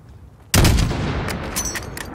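A single loud rifle shot from a long-range sniper shot at a target 600 meters away in Call of Duty: Modern Warfare, a sharp crack followed by a long rolling echo that slowly fades.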